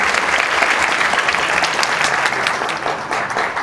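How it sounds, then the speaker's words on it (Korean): Audience applause for a professor opening a science lecture at a university science camp, a dense, steady wash of clapping that stays loud and continuous from start to end. "우리 최준곤 교수님한테 박수 부탁드리겠습니다"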